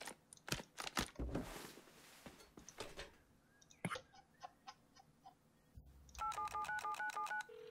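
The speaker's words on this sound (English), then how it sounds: "Oh, he's on the phone." Phone dialing in the Rust survival video game, a quick run of beeping keypad tones near the end after scattered clicks and thumps, fairly faint and alone.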